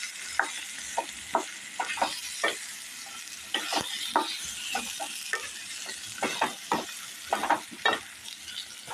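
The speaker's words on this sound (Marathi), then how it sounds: "आपण वांगी घालून घेऊया आणि परत परतून घेऊया चांगलं" Brinjal and potato stir-frying in a pan over medium heat give a low sizzle. A spatula scrapes and taps the pan in repeated irregular strokes.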